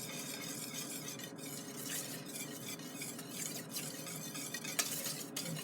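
An egg ice cream base cooking over low heat and being stirred in a pot, a steady soft hiss with repeated scraping strokes and an occasional faint utensil tap, heard without speech.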